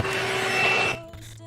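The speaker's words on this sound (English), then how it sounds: "This is a pretty high powered vacuum cleaner, but the sound is kind of quiet" A VacLife VL188 handheld cordless vacuum cleaner runs inside a car with a steady whirring motor hum for about a second, then cuts to a quieter, lower drone.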